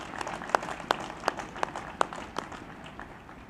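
Audience at a university commencement for agriculture, biotechnology and natural resources graduates clapping for honorary doctorate recipients: a thin run of about seven distinct, evenly spaced claps that fade toward the end over soft room noise.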